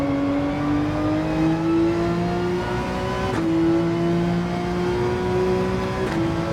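A Porsche 911 GT3 race car in Gran Turismo 7 holds a loud, sustained engine drone, pitch climbing gradually through a gear with a brief shift dip, then rising again.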